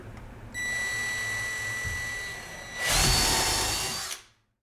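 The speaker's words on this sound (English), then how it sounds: "I pre-drill because I don't have a shooter." A power drill pre-drills a split door jamb on an interior door install, whirring steadily close by, then revving louder and higher for about a second before stopping abruptly.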